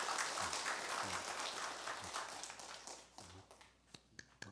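A church congregation at a Sunday morning worship service claps together, a dense wash of applause that thins toward the end into a few scattered, separate claps.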